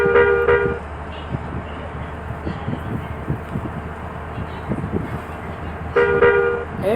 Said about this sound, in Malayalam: നമ്മൾ വണ്ടി ഓടിക്കുകയാണ്.